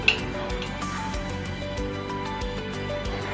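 A spoon stirring blue curacao syrup mixture in a pot, with quick light clinks and scrapes against the vessel repeating over a faint background hum.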